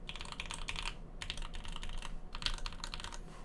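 Undampened J-01 prototype mechanical keyboard, switches, plate and keycaps only, typed on in quick clustered runs of bright clacks with short gaps, heard up close and alone.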